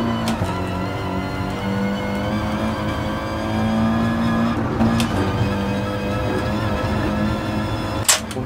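Audi TT Cup race car held at full throttle on the Nordschleife in Gran Turismo Sport, a loud, sustained, high-revving engine drone with a sharp shift or click near the end.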